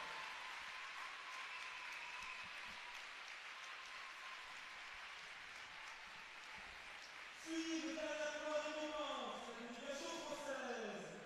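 A packed sports hall crowd at a gala applauds steadily for several seconds, a dense even patter that carries on as a voice starts speaking over it near the end.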